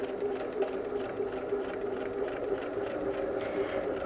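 A sewing machine quilts feather patterns, running at a steady, continuous hum with a fast, even needle rhythm and no pauses throughout.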